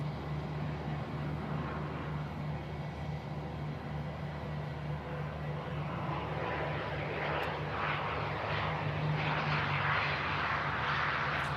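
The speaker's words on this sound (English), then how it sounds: "Eastern Airways touching down from Southampton" An Eastern Airways airliner touches down at Manchester Airport, its engine roar steady and distant, building slightly toward the end of the long, continuous rumble.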